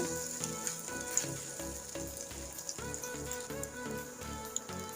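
Bread and egg snack sizzling steadily in a pan over medium heat, a continuous close crackle with soft stirring and turning sounds throughout, no talk.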